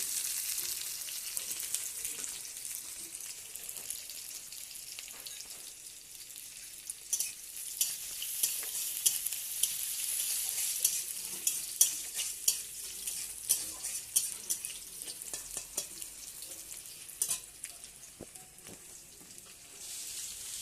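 Onion and dried red chillies frying in a pan: a constant bright sizzle close up, with repeated light scrapes and clicks of a spatula stirring against the metal.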